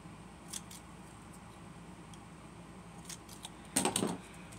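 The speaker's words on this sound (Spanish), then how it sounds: "un pedacito le cortamos del otro lado" Scissors snip a small piece from a baby shower table centerpiece, one short close cut near the end after a few faint clicks, against quiet room tone.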